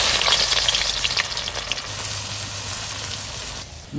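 Desi tree chicken cooking in an iron wok gives a loud, close, continuous sizzle and hiss with some stirring noise, no voices, ending suddenly.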